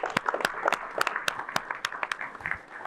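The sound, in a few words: applause, audience clapping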